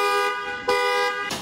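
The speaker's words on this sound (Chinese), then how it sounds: "警报声、示警声，除了告诉车主，还要兼顾吓退歹徒的效果" A car alarm sounds loud and close, giving a piercing, buzzy electronic tone that pulses in repeated short bursts with no voices.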